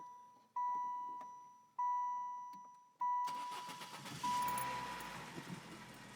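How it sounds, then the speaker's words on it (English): A 1997 Saturn car engine cranks and catches after several short electronic chimes and clicks, then settles into a steady, rough idle with a faint beeping over it. "now let's go ahead and start the engine."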